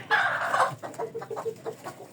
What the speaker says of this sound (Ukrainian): чи петухи кури паруються.